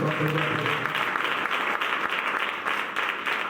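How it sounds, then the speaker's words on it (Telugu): A church congregation claps loudly together, a dense, sustained burst of applause from many hands filling the room for several seconds. "గట్టిగా చప్పట్లు పెట్టుకోవాలి."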